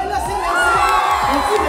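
A crowd of people cheers and shouts together at a New Year group game, a dense, steady roar of excited voices with high whoops running through the whole short burst.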